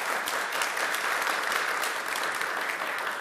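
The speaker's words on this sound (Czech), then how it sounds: "ten potlesk patří skutečně tatínkovi Jaromíru Vejvodovi" Steady audience applause on a Czech TV programme, an even wash of many hands clapping throughout, moderately loud with no pauses.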